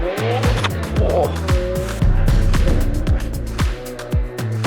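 Snowmobile engines on Mt. Spokane rev and whine, their pitch sweeping up and down repeatedly as the machines accelerate and pass close by, loud and continuous.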